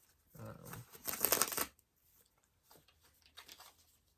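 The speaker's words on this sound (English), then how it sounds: "I'm gonna shuffle it up a couple times." Quiet papery riffling of tarot cards being shuffled, a brief flurry followed by a softer second shuffle, close and faint.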